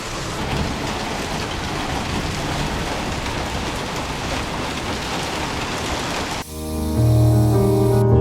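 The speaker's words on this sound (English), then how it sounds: "Hailing outside." Hail pours down outside a workshop where a wrecked 2008 VW Rabbit Mk5 is being welded, a dense steady roar of pelting that gives way near the end to a louder low hum.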